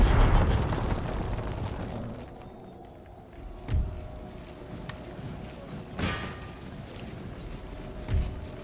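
Cannon and musket fire in an Empire: Total War battle, a loud rumbling volley at first, then several scattered booms and cracks a second or two apart against a low battlefield hum.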